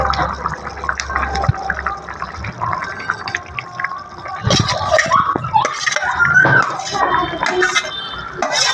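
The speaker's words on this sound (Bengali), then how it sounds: "এবার এক এক করে সব কটা পনির আমি জলের মধ্যে অ্যাড করে দিচ্ছি।" Paneer pieces drop one by one into water in a cooking pan, giving soft splashes and liquid sloshing with light clinks, close and moderately quiet, with no talking.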